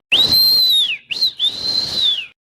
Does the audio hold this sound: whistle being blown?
yes